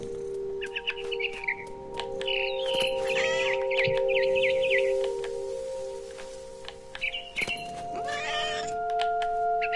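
A cat in the video game What Remains of Edith Finch meows and caterwauls repeatedly over several seconds, loud and close, with steady tonal game sounds and clucking behind.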